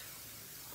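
Short hiss of cooking spray misted into a glass 8.5 by 11 baking pan, a brief steady spray heard up close without talk.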